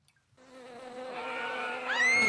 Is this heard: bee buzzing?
yes